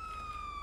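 A police car siren in a video game holds a steady, loud, unwavering electronic tone, close and continuous, with no talk over it.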